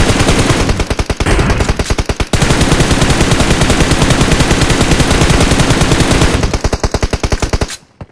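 Long bursts of rapid automatic gunfire from PUBG Mobile on the Livik map rattle loud and close, with brief pauses between strings of shots before the firing cuts off.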